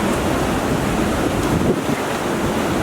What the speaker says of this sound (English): you can sit on this side and just enjoy this flowing river